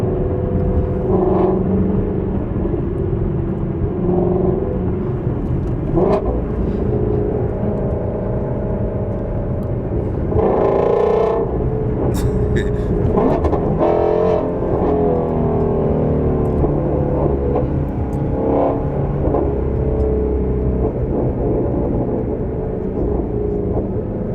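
A Mustang GT350 with a Corsa X-pipe exhaust and resonator delete gives a loud, continuous rumble that swells as it revs and accelerates, heard from close by inside the car.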